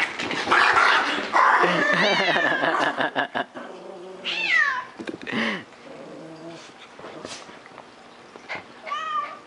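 A cat yowls and hisses in drawn-out caterwauls while a dog growls and yaps close by, a loud tangled scuffle that trails off into scattered cries, with people talking over it.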